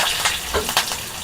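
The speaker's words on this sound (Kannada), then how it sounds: "ಇದನ್ನು ಚೆನ್ನಾಗಿ ಫ್ರೈ ಮಾಡ್ಕೋಬೇಕು" Garlic, onion and curry leaves frying in hot oil for a tempering, a steady close sizzle with brief stirring bursts, no voices.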